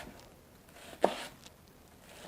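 A single crisp knife stroke slices through a red onion on a board, one short chop standing alone against a quiet background.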